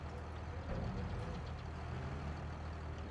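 Farm tractor engine droning steadily at low revs while being maneuvered to line up a wagon, a continuous loud low rumble with no breaks.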